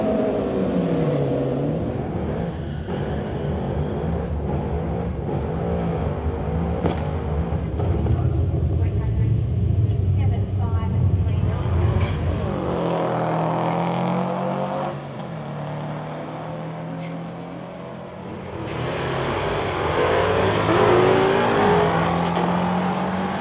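Old-looking race cars fitted with $50,000 engines, one an original SLR 5000, rev and accelerate nearby, with repeated rising and falling engine sweeps that stay loud throughout and overlap one another.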